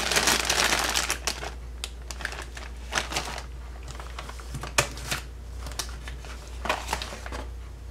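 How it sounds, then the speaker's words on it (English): Parts of an Airfix HMS Belfast model kit crinkle and rustle inside a plastic bag, a quiet run of irregular close crackles and clicks heard alone without talk. "We have one plastic bag containing all the parts."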